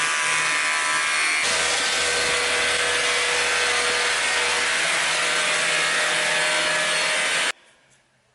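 A Flowbee vacuum hair clipper cuts a man's hair at home, trimming the sides. It makes a loud, steady electric whir and suction roar close by that runs for about seven seconds and then cuts off abruptly. No one speaks.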